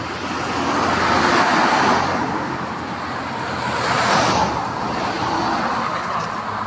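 Many cars passing on a road, a loud, continuous roar that swells as vehicles rush by close, with broad whooshes rising and fading.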